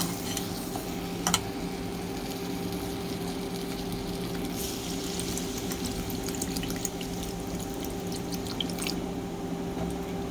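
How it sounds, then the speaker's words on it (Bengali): Water added to a hot pan of lentils and potatoes makes a low, steady sizzle with scattered drips and faint clinks. No one speaks. "এখন একটু পানি দিয়ে দেবো।"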